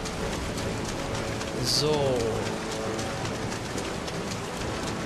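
Steady hiss of rain falling in Kingdom Hearts 3 on PS4, a dense, even patter that runs throughout, with a single brief spoken word near the start.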